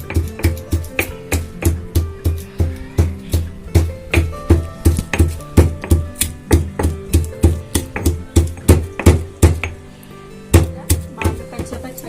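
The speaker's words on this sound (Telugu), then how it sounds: "అవన్నీ మనం పచ్చాగా దంచుకోవాలి" Garlic and spices pounded with a pestle in a mortar, with steady rhythmic thuds repeating about three times per second, loud and close, with a brief pause near the end.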